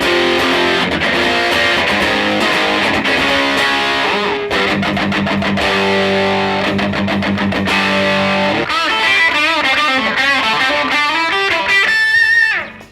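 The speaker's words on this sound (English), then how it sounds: "So in this setting, it's kind of grungy rock and roll." Electric guitar played through a Rat distortion pedal set for grungy rock and roll: loud, gritty distorted chords and riffs, close and continuous for the whole stretch, ending on a quick run before cutting off, with no talking.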